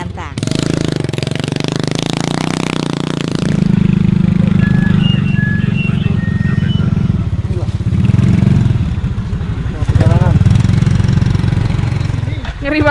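Motorcycle engines revving and straining on a steep, rough adventure trail in Java, loud and close, with a harsh rattling first stretch then a steady churning drone, voices talking over it.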